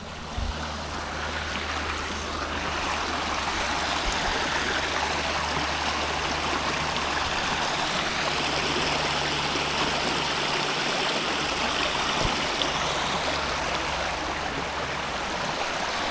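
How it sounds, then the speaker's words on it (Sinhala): Rushing water pours steadily from the weir at the Badger Weir picnic area, a continuous broadband roar with no pause, close and full throughout. "මේ වතුර සද්දයක් ඇහෙනව නේද?"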